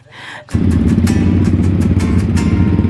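A Yamaha XSR155 motorcycle with an open exhaust pipe roars to life after a quiet moment, then holds a loud, close, throbbing engine note with repeated throttle blips layered over the rough exhaust rumble.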